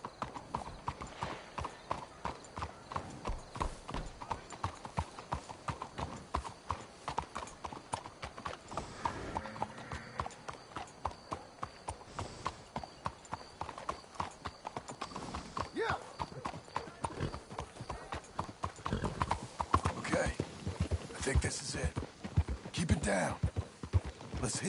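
Steady clip-clop of horse hooves continues throughout in the video game Red Dead Redemption 2. Occasional snorts and a whinny are heard, along with quiet voices and ambient outdoor sound.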